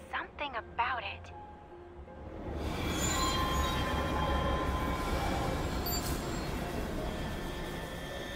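Riding a train in the video game Love and Deepspace: a few brief tonal chimes give way to a steady, loud rolling rumble of wheels on rails, with faint squeals and rattles carrying on to the end.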